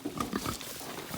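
Pigs loose on a farm grunt in short, low, snuffling bursts at fairly close range, several quick grunts clustered at the start and then fading into rustling background noise.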